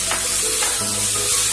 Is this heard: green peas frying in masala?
yes